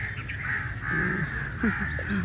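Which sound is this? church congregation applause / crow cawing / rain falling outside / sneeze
crow cawing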